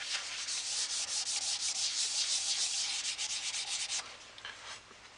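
Wax finish rubbed by hand onto a laminated sycamore and purple heart bowl held on a stationary lathe, a steady close scrubbing hiss in quick strokes that eases off toward the end.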